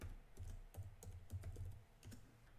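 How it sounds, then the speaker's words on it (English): Rapid keystrokes on a computer keyboard as a password is typed, a steady patter of soft clicks at close range with no talking. "type in your password."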